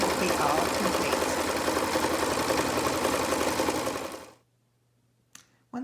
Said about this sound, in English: then I'm just going to stitch all 4 sides of the fabric